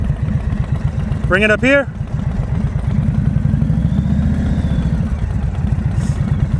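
Harley-Davidson motorcycle engine running at slow speed during riding practice, a deep loping rumble that rises briefly, close and loud, with a man calling out once early on.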